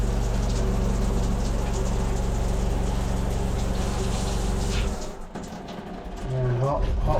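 Cold water gushing steadily from an RV tap while flushing out pink antifreeze solution, a loud continuous splashing rush that cuts off near the end, leaving a brief quieter tail with faint sounds.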